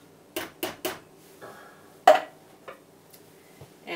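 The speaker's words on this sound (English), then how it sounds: "and stirring that up." A spoon stirs coconut milk into tomato soup in a pot, making a few close, sharp clinks and scrapes against the metal, spaced irregularly, with no talking.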